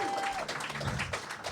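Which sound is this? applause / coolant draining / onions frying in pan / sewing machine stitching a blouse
applause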